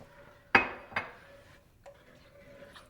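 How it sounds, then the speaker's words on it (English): A utensil scraping and clinking against a skillet while stirring cream cheese into heavy cream, with two sharp metallic knocks near the start followed by fainter taps in a quiet room. "Just keep stirring until all of that cream cheese is broken up"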